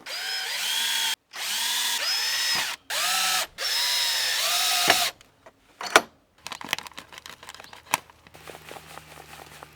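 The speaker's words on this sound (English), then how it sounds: "I need the yellow drill" A power drill whirs in several loud bursts of a few seconds each, winding up and down, followed by clattering and tool handling.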